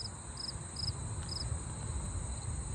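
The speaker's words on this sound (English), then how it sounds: "I can hear the sound of crickets." Crickets chirp in short, regular pulses, fairly faint, against a quiet outdoor background on the Etobicoke Creek Trail, with a low steady hum.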